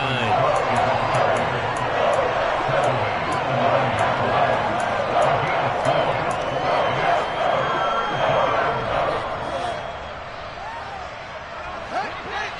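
Football stadium crowd at a Packers game roaring steadily as a big third down approaches, a dense continuous wall of noise with bursts of cheering and rhythmic claps, easing slightly near the end, while a commentator talks over it.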